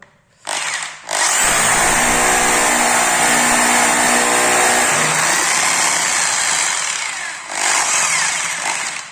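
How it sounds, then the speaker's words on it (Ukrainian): A loud, steady rotary hammer drone starts after a brief stutter, drilling through a skirting board, runs continuously with a slight dip near the end, then cuts out. "взяли перфоратор"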